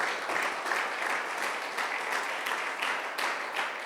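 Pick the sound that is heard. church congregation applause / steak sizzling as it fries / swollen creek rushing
church congregation applause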